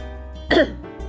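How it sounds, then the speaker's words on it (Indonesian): A single short, sharp cough breaks through a quiet room, sounding close and loud against a steady low hum. "maaf saya agak batuk"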